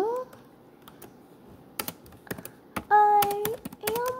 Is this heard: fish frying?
no